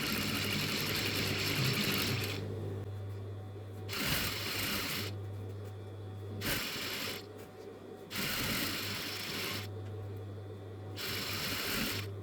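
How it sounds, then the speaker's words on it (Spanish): Sewing machine stitching a crop top's fabric, running in bursts of steady rapid stitching separated by short pauses where the fabric is adjusted, close and fairly loud with no talk. "estiro un poquito y sigo cosiendo"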